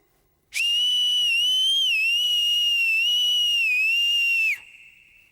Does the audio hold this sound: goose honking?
no